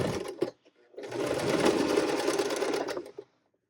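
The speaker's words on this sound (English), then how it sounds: "I'm just going to start sewing. I'm going to back stitch." Sewing machine stitching a seam for pajama shorts, with a short burst of backstitching before a steady run of about two seconds, close and loud, ending abruptly.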